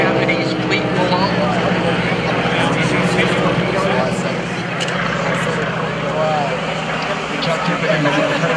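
Stearman biplanes peel off into a dive at an airshow, a steady droning radial-engine roar heard at a distance beneath continuous commentary from an announcer.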